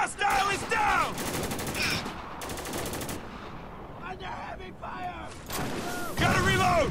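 Rapid automatic gunfire and bursts of shots in Spec Ops: The Line, loud and close, in several volleys with short gaps, with voices shouting in between.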